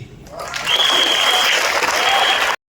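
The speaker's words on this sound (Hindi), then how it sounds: "जोरदार तालियां" Loud audience applause rises quickly and holds steady as a dense, continuous clapping roar from a large crowd, then cuts off abruptly.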